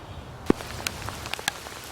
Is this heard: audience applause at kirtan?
no